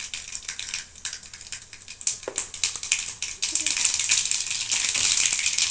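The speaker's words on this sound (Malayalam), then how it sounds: "കടുക് ഇട്ട് കൊടുക്കാം കേട്ടോ" Mustard seeds dropped into a hot pan crackle and pop in a dense, rising rattle of tiny sharp bursts, close and fairly loud, growing busier toward the end.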